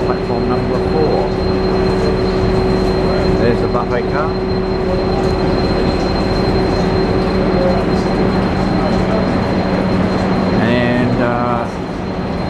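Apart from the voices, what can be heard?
train at Ipswich Station platform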